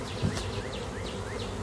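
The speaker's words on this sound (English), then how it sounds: "A lot of bees on the bottom here." A honeybee swarm buzzes steadily at the entrance of a hive with a screened bottom board, a close, dense drone of many bees with individual wingbeats flitting past.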